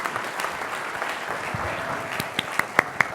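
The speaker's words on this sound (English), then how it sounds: "let's give a round of applause to the panel" After a fireside chat at an annual meeting, the audience applauds the panel with scattered, fairly soft clapping that builds into a few sharper, closer claps near the end.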